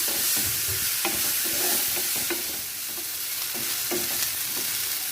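Ginger-garlic paste sautéing in a pan for vegetable cutlets, a steady hissing sizzle broken by the soft scrapes and taps of a stirring spoon.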